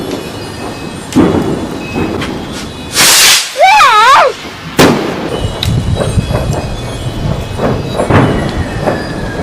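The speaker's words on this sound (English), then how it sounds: "keep looking when the firework goes off" A Bonfire Night firework whooshes up with a sharp crackling burst and a warbling whistle, followed by a loud bang and scattered pops, fairly close.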